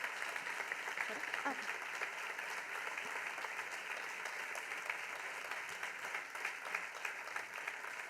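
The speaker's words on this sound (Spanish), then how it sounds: "Fuerte aplauso para Sara." A small audience applauds a journalist after a podcast interview about climbing in Tenerife; even, moderate clapping runs the whole stretch, somewhat distant, with a brief voice near the start.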